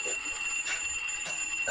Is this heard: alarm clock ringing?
yes